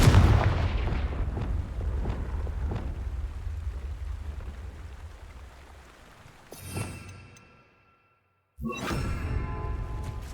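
Confringo fire spell in Hogwarts Legacy, a heavy booming blast that fades into a long rumbling decay, followed by a short burst, near silence, then another loud crackling roar.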